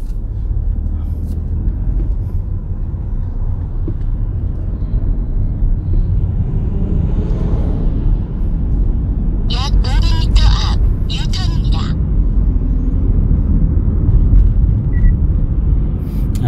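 A car pulls away and drives along a driving-test road course, a steady low engine and road rumble running throughout, with a brief burst of other noise partway through.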